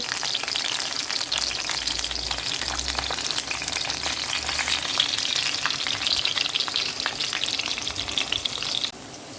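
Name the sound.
plantain slices frying in hot oil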